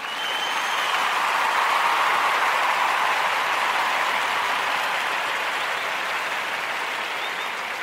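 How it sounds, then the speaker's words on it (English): Sustained applause from a group gathered for a daily toast, an even wash of clapping that holds steady throughout and tapers only slightly near the end. "Let's give Denzel a round of applause."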